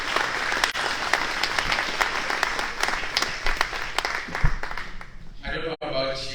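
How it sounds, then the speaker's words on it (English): An audience at a community human rights breakfast in Rockland County applauds steadily for several seconds, the clapping tapering off as a voice begins speaking near the end. "we can give it a clap for that program"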